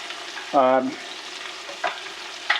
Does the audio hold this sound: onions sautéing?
yes